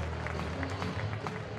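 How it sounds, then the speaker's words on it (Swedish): An indoor sports crowd applauds a goalkeeper's big save against Karlskoga, producing a dense, continuous patter of clapping at moderate distance, with a commentator's voice faintly under it. "Jag tror till och med att publiken applåderar Sörensen för det där."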